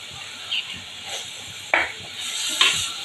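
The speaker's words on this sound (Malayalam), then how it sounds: "ഇതെല്ലാം കൂടെ ഒന്ന് വഴറ്റി അതിൻ്റെ ഒരു പച്ചമണം മാറുന്ന വരെ നമുക്കൊന്ന് വഴറ്റണം" Onion and green chili sautéing in a pan, with a faint steady sizzle broken by a few sharp scrapes and clacks of a spoon stirring, quiet and close.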